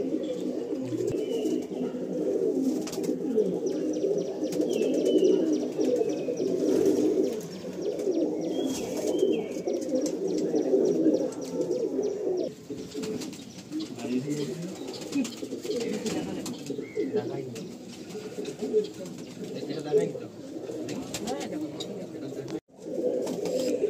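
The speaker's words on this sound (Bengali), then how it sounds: "দাদার কালদম খুব প্রিয় পায়রা" Pigeons in a loft of Andhra and Madrasi breeds in Kolkata coo steadily and densely throughout, a continuous low throaty murmur from many birds nearby, with a voice talking intermittently over them.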